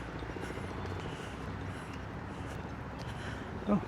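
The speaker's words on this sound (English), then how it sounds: "I hear helicopters." Faint, distant helicopter drone with a steady low rotor rumble in the background, on Museum Mile in New York City.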